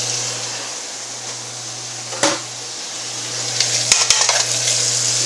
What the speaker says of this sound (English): Beef is cooking up pretty good.